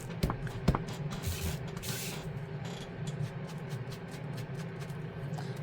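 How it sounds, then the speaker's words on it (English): Bursts of spray paint or colour mist hiss onto a fabric journal cover, with short airy blasts early on, then quieter steady handling noise. No one speaks. "I need to add more spray to that."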